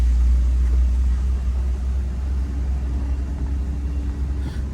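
A 1963 Cadillac Series 62 cruises down a street, its engine a steady low rumble with road and wind noise, close and fairly loud with no talking.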